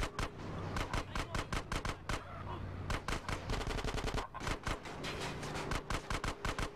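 Rapid bursts of automatic and single gunfire in GTA San Andreas on PS2, a dense chattering volley of sharp repeated shots with brief pauses, loud and close, with a low engine drone underneath.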